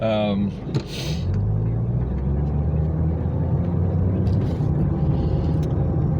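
A car driving on the road during a commute, heard from inside as a steady low engine and road rumble, with someone talking briefly at the start.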